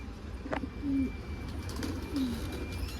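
A pigeon gives two soft, low coos about a second apart, close by against a faint background hum.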